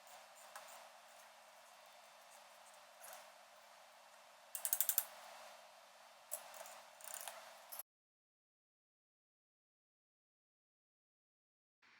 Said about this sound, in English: put a 19mm wrench, and then you put a 22 wrench up top, millimeter wrench up top, and it's fairly quick and easy to secure the nut to the shock